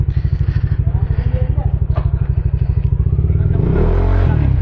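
A Yamaha Aerox 155 superstock scooter fitted with Brembo brakes and an Öhlins TSWP exhaust runs close by with a steady, pulsing engine note that swells louder as it revs up near the end.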